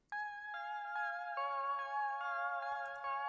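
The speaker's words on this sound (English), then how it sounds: "Next sound is this soft synth." A soft, airy synth pad from the Monopoly plugin sustains a bright, steady chord, with gentle repeated note changes every half second or so, close and clean with no voices.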